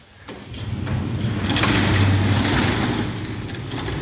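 A black Krispol sectional garage gate, 4000 by 2400, with a torsion-spring mechanism rolls along its tracks, a smooth steady rumbling glide building and fading over several seconds, close and fairly loud with no talk.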